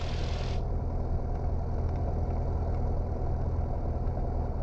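Light training aircraft engine throttled back to low idle around 850 to 900 RPM, a steady low throbbing drone heard from the cockpit, with a brief hiss at the start and no talking.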